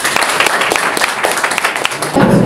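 Dense, steady applause from a crowd at a municipal council meeting, many hands clapping at once and filling the room, swelling slightly louder at the end.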